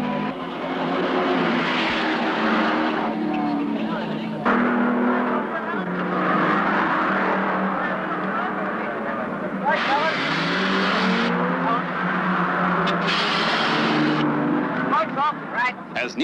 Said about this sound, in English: Des West's 4-barrel pacer flashes past to take over the lead